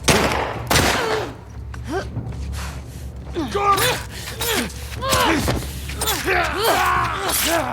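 Gunfire in The Last of Us Part II, several sharp shots and bursts scattered through the clip, mixed with gasps, effort sounds and mechanical clatter over a low droning hum.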